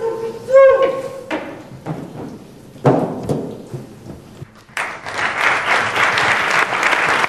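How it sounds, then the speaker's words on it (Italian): A theatre audience applauds three actresses. Scattered thumps and bumps come first, then dense clapping swells and holds to the end. "Meritatissimi gli applausi alle tre attrici mirabilmente a loro agio in ruoli così intensi e impegnativi."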